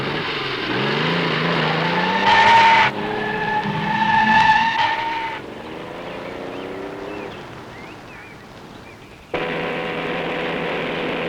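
A 1960s car squeals its tires loudly while driving off, with rising engine revs and drawn-out skidding screeches close by, then a quieter stretch before the engine roars again.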